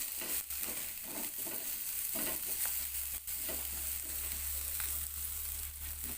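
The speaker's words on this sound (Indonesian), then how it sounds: "Tumis kembali hingga cabainya layu." Chilies sautéed with shallots and garlic in a pan for a vegetable dish, a steady sizzle of frying with occasional scraping stir strokes, close and continuous, no voices.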